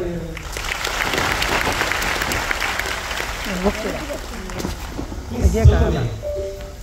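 A crowd bursts into sustained applause at a gathering, with dense clapping throughout. Voices and a microphone call rise over it near the end.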